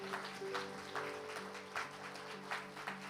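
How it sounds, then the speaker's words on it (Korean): A church congregation claps for graduating children at a service, a steady mass of applause with a few louder swells, heard over a faint sustained organ-like tone in a large room. "박수 쳐주시기 바랍니다"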